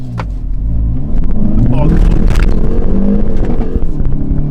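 A Hyundai Veloster N accelerates hard with wheel hop, its loud engine rumbling close by through the whole stretch with a rough, juddering edge, while a voice talks over it.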